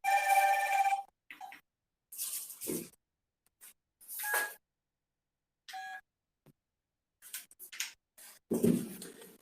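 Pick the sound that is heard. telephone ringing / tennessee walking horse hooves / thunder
telephone ringing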